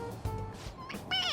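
A toy cat in Persona 5 Royal gives a short, high meow when its head is pressed, coming in at the end after brief vocal sounds and game background.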